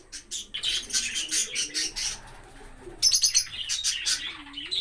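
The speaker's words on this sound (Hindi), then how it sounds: "कॉकटेल और फिशर लव बर्ड्स" Pet cockatiels and Fischer's lovebirds chirp and tweet in quick, busy bursts, with short pauses between flurries and a soft lower warble underneath, fairly close and moderately loud.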